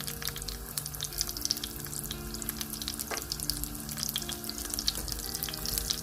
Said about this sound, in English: Next, I'm gonna add my tomatoes.